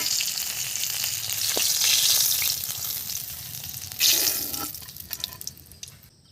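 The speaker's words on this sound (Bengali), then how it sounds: "মাছ ভাজা হয়ে গেছে এখন আমি তুলে নিচ্ছি" Fried puti fish is lifted out of hot oil that sizzles steadily and loudly, with a sharp clatter partway through as the oil calms down.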